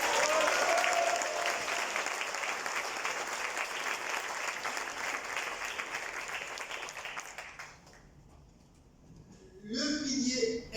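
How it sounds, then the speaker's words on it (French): A crowd of participants at the Made in Moris certificate ceremony in Mauritius gives a loud, sustained round of applause that dies away after about seven seconds, before a speaker resumes talking. "vous méritez un tour d'applaudissement très fort"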